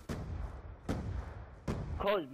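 Explosions in the Black Ops 2 video game, three heavy booming blasts spaced under a second apart, each with a rumbling tail, followed by a short burst of voice at the end.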